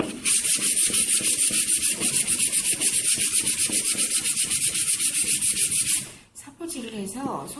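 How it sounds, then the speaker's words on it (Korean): Sandpaper rubs back and forth over a wooden blank in a steady, rapid rhythm for about six seconds, loud and close, then stops and gives way to faint handling noise. "사포질을 먼저 해주세요."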